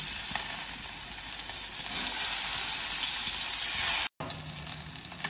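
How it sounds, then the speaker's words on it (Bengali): Tangra fish fry in hot oil with a loud, continuous sizzling hiss that fills the whole stretch. It cuts out briefly near the end, then resumes. "ট্যাংরা মাছগুলো ভেজে নেব।"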